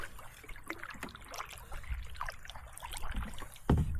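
Canoe paddle strokes dip and pull through calm pond water on a still evening, soft splashes and drips recurring at an easy rhythm close by, with one fuller splash near the end.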